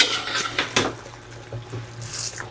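Gentle stirring of beef caldereta in a cooking pot, soft scraping and clinking of a utensil against metal with faint wet sloshing, close and quiet over a low hum.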